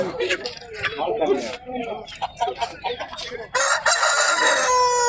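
Voices talk over a noisy rooster market in Kunnathur, Tirupur, then a rooster crows loudly nearby, with clucking fowl around it.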